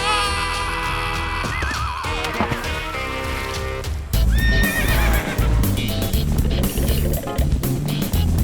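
Zebra calls in a Japanese-dubbed children's animal cartoon, loud whinnying, braying cries rising and falling over music, with clopping hoofbeats and busy cartoon effects growing louder in the second half.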